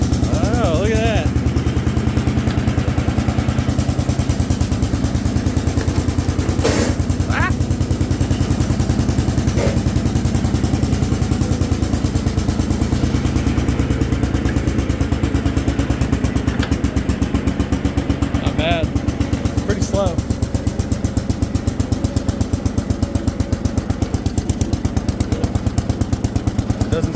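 A small engine on an Allis Chalmers garden tractor runs loud and close for the whole stretch, a steady rapid putter with a few sharp clacks, while someone speaks intermittently over it.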